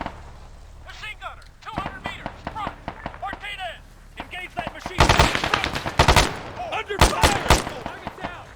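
Machine gun fire in the military shooter game ARMA 3, loud repeated bursts of automatic gunfire with sharp cracks, mixed with other shots and combat radio-style shouting in the background.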